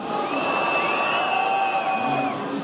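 Stadium crowd at a São Paulo football match booing during the warm-up scoreboard announcement, a dense, steady roar of many voices filling the space without pause.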